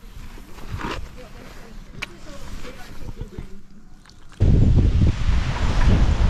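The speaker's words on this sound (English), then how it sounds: "the wind's a little strong today" Strong wind blows outdoors in Mexico, buffeting the microphone in uneven gusts that rise into a loud, roaring rush near the end, with a person speaking softly beneath it.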